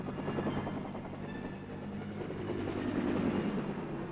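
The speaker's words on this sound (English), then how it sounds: "The Huey takes off like an angry hornet." A Huey military helicopter climbs after takeoff, its steady rotor throb and turbine drone continuous and moderately loud throughout, with no voices.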